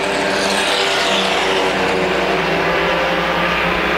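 CRA FWD Compacts front-wheel-drive race cars lapping Winchester Speedway, loud roaring engines and tire noise in a dense continuous blare close by, with no break for the whole stretch.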